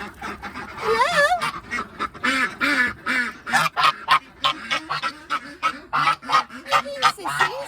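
Ducks and geese calling in alarm, a close, loud, continuous run of overlapping honks and quacks in quick bursts.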